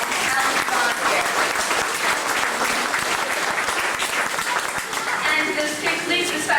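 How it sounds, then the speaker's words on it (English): An audience on a theme park studio backlot tour applauds a volunteer, thick continuous clapping that stays loud and even throughout, with some talk faintly underneath. "How about a thunderous round of applause for a very great talent volunteer."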